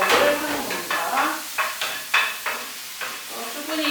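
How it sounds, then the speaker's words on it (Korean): Onion and celery stir-fried in a dry pan with no oil, with a steady soft sizzle and repeated scraping strokes of a utensil in a regular rhythm, and no one speaking. "아무것도 두르지 않은 상태에서 양파랑 샐러리를 넣고 볶아주세요."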